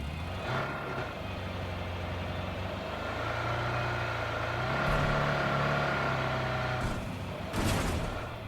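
A vehicle drives in the battle royale game PUBG, a continuous mid-level engine drone with tonal whine, shifting in pitch around the middle, with a couple of brief sharp bursts near the end.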